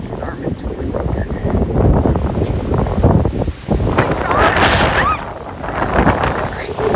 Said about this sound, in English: These are the gusts I'm talking about. I'm up to 65 miles an hour.